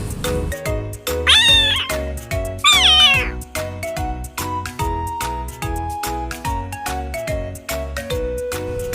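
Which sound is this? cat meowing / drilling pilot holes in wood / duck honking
cat meowing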